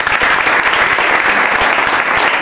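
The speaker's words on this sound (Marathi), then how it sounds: "त्यांच्यासाठी जोरदार टाळ्या होऊन जायचे" Students and audience at a school gathering applaud their teachers with loud, dense clapping that stays steady and close throughout the short stretch.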